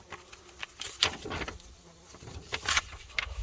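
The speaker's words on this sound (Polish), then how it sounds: "Znowu jakaś mucha mi wpadła." A fly buzzes in short, uneven bursts inside a 2008 Volvo S80 2.5 FT, fairly close and moderately loud against a quiet cabin, with brief pauses between passes.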